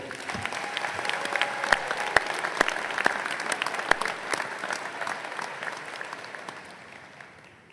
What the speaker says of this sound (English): How about another round of applause for Lauren?